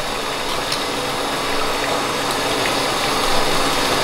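Water rushes steadily through a counterflow wort chiller during whiskey mash brewing, a loud, dense, continuous hiss and gush with no pauses or voices.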